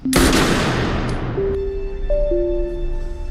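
A gunshot in a John Wick Chapter 4 film scene, a sharp loud blast with a long broadband decay, followed by sustained tonal ringing and low rumble, with no talk.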